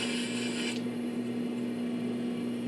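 A wooden pen blank is sanded by hand over a sanding block. The rasping rub is steady and fairly quiet, with a faint background hum and no talking.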